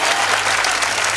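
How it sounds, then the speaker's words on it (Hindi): A church congregation at a Hindi-language sermon claps together, a dense burst of applause filling the short moment with no speech over it. "यदि आपको यह बात पसंद आई है, अपनी आत्मा के लिए ताली बजाएं।"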